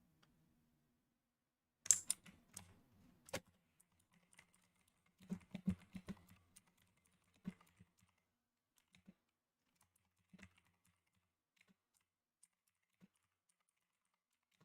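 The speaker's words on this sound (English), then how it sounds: "I'm just typing this up in Team Bull," Typing on a computer keyboard, sparse bursts of close, quiet key clicks separated by pauses of silence, with no voices present.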